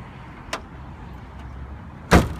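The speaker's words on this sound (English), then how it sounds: "Pop the trunk for you guys a second right here." Trunk of a 2013 Chrysler 200 Limited convertible popped open at a car lot: a faint click, then a single loud, close thump of the latch releasing near the end over a quiet background.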